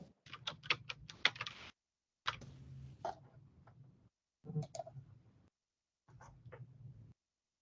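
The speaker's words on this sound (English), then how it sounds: "I see several people typing" Bursts of quick light clicking of keyboard typing during an online committee meeting, in short runs separated by pauses, fairly close and soft.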